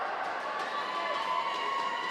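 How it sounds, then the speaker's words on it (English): Rugby crowd at a Brazil versus Australia match chanting the Aussie, Aussie, Aussie, oi, oi, oi call, a steady, dense wall of massed voices and cheering sustained throughout without pause. "And you're hearing their famous call, Aussie, Aussie, Aussie, oi, oi, oi."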